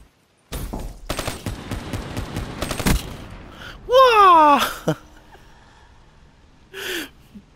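Rapid automatic gunfire from a gun in Black Ops 3 crackles in a loud burst lasting a few seconds, followed by a voice gasping and wailing and a short vocal cry afterward.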